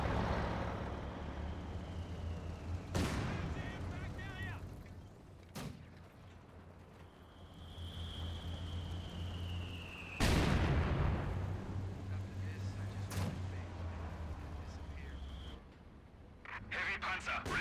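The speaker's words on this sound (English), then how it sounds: "Here's some conscripts firing away against some Fallschirmjägers" Conscript infantry in Company of Heroes 2 fire at Fallschirmjäger paratroopers, with sharp bursts and heavy booming impacts breaking through a rumbling battle bed, under a commentator's steady talk.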